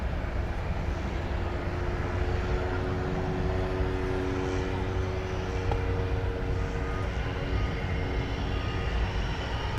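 Cessna SuperCargomaster turboprop arriving at DFW Airport, a steady moderate engine drone with faint sustained propeller tones, heard from some distance with no voices over it.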